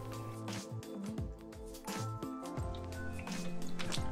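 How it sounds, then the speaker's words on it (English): Water from wet, dyed paper pulp in a craft mold drains and drips out in faint, uneven squishing and trickling bursts, close by and quiet. "All that's coming out is water."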